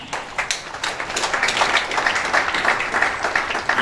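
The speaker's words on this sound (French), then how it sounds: "Applaudissez s'il vous plaît." Applause from an audience at an official launch event greeting a national deputy, with dense, steady clapping that stays loud and close throughout.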